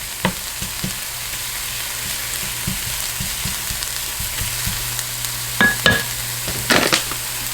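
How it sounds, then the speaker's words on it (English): Onion sautéing in a pan for a plant-based breakfast burrito gives a steady, close sizzle with scattered clicks and scrapes of stirring, louder bursts of spatula movement near the end. "I can see the onion is sauteing nicely."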